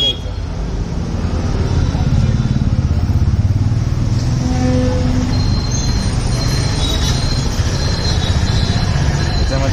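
A portable generator engine runs steadily with a dense, loud mechanical drone that stays constant throughout, close by, with no clear talk over it.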